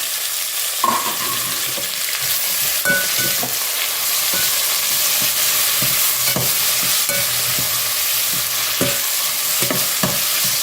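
Tomatoes and mushrooms sizzle steadily in a hot pan, with a constant loud frying hiss. Repeated scraping strokes of stirring come through close by.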